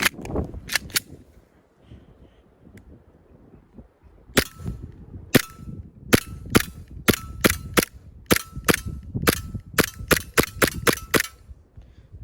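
An AW Custom VX7 Z80 airsoft pistol fires green gas BBs straight out of the box, about fifteen sharp, close pops, first spaced apart and then in a quick irregular string, loud and clear with no talk.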